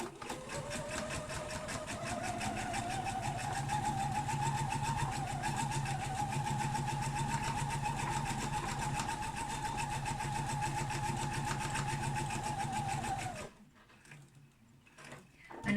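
A sewing machine runs steadily, stitching a seam on a homemade fabric face mask with a close, continuous mechanical whir. It stops abruptly near the end, leaving quieter room sound.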